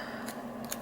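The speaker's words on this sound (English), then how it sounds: "do I want to use scissors?" Scissors snip through material, with two quick, faint crisp cuts over a low steady hum.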